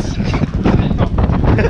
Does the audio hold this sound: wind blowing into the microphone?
yes